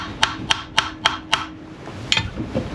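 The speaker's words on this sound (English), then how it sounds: "First I hit with hammer," Five sharp metallic strikes of a hammer on a rusty bolt in quick, even succession, then a pause and one more hit, followed by faint scraping, during truck shock mount repair.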